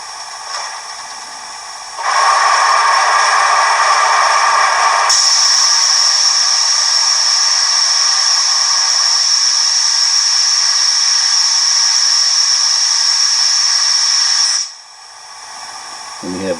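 Steam dump effect from a Bachmann 2-8-0 locomotive's DCC sound decoder: a loud, steady hiss of released steam lasting over ten seconds, then cutting off abruptly.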